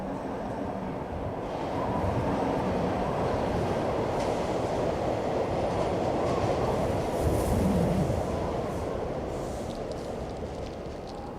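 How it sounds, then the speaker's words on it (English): First morning train from Val Poschiavo laboring up a steep mountain railway, a loud continuous rumble of wheels and rolling stock with rhythmic clacking and faint squeal, swelling slightly as it passes nearby, no voices. "the first train from Val Poschiavo struggles up the mountain"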